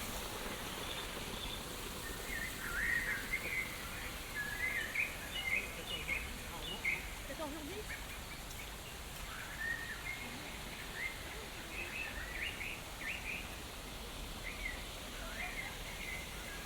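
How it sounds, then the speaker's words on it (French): Scattered bird chirps and tweets played from outdoor loudspeakers at Puy du Fou ring out over a steady broadband hiss, with brief trilling bursts coming and going throughout. "ces oiseaux sont-ils authentiques ?"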